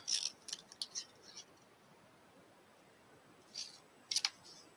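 Scissors snipping paper for a stamped birthday card craft, a few quiet crisp cuts in a short burst, a pause, then a couple more snips close by.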